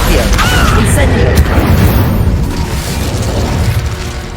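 The Incendio fire spell is cast in the video game Hogwarts Legacy. It gives a loud, close whooshing burst of flame that swells into a rumbling roar and fades slightly over a few seconds.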